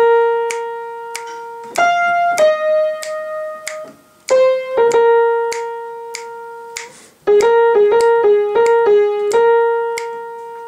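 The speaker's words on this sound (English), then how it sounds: "there's going to be one extra synth that plays over top of everything" A bright electronic synth lead plays a short stepwise melody with crisp, plucky note attacks, loud and clear with no voices.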